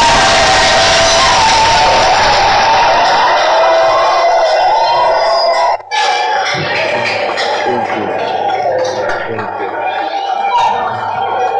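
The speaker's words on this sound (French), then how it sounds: "je vais demander que vous vous leviez et que vous applaudissiez très fort" A standing congregation at a visit to a special amphibious battalion applauds and cheers loudly, a dense roar of clapping and shouting, with voices mixed in and a brief dip near the middle.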